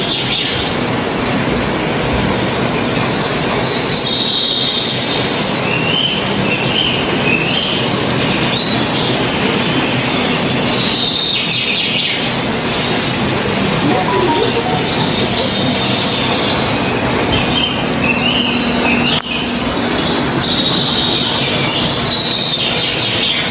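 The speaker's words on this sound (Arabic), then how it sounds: "صوت الميه والطيور والاشجار في كل مكان" Continuous rushing water fills an indoor rainforest exhibit at an aquarium in Hurghada with a steady hiss, while scattered birds chirp and call throughout.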